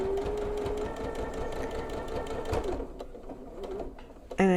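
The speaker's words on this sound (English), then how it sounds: "And I continue to sew it down." A sewing machine stitches quilt binding down onto a thick minky backing with a fast, even mechanical chatter that runs for about three seconds, slows, and ends with a short louder clunk.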